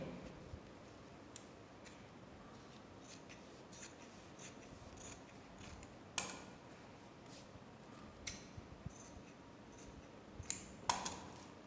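Scissors cutting fabric for a baby frock, close and quiet, with a series of soft snips and rustles and a few sharper clicks of the blades.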